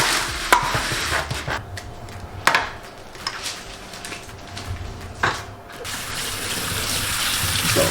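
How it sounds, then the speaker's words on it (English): Kidney beans rinsed under a running kitchen tap in a home kitchen, a steady wash of water with intermittent knocks and clatters from the sink and beans, with no talk over it. "So, rinse your beans off, because these are tasty."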